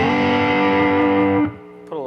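A 1970s-style Acme Guitar Works Hotrod Strat electric guitar on its middle pickup, a sustained distorted chord ringing loud and then decaying, followed by a brief fresh strum at the end.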